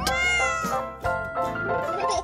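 A cat meows in a few drawn-out, rising and falling cries, loud and close, as part of a children's phonics song.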